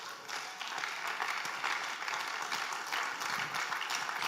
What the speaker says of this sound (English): if you're clapping, clap now.